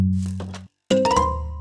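Doorbell in the Minecraft game chiming inside a security house: a sustained electronic tone, a brief silence, then a second brighter ringing burst with clinking overtones, loud and close.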